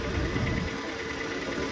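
A Daewoo Tico car engine idles at a used-car market, running with a steady mid-pitched hum and a rougher low rumble at first that settles into an even drone.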